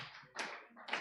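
A few sparse handclaps from a small audience at the close of a panel session at a regional reproductive justice litigation gathering, two distinct bursts of clapping, faint and somewhat distant, with no talking.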